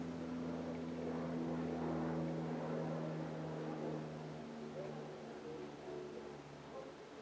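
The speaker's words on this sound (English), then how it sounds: "There's a plane." A propeller airplane drones steadily overhead with a constant low hum, loud at first and easing slightly as it moves away, with no speech.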